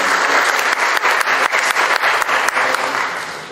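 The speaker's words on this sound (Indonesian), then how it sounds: "Beri tepuk tangan untuk semuanya." Dense, steady applause from an audience at the inauguration of the DKI Jakarta museum association Paramita Jaya, many hands clapping together and loud throughout, easing off slightly at the end.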